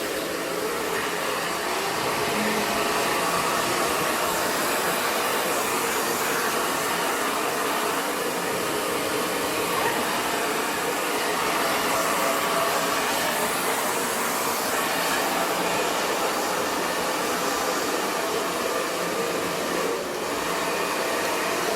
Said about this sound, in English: Keeping an eye on the temperature of the hair dryer, making sure it's not getting too hot